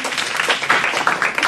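Audience members at a STEM careers talk clap briefly in answer to a show-of-hands question, a short patter of scattered hand claps close by.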